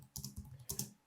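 Fingers type on a computer keyboard in two quick bursts of close, crisp key clicks separated by a short pause, with no talk.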